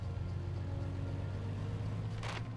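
Car engine in the video game State of Decay, a steady low rumbling drone while driving home, constant and moderately loud with no talking.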